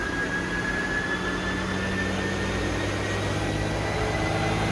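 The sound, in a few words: Mercedes-Benz GLE 43 AMG twin turbo engine running on dyno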